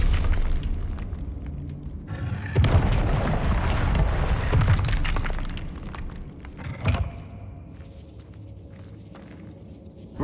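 A Confringo blasting curse explodes in a video game, a heavy rumbling boom that swells and lingers for several seconds before a sharper crack and fading debris.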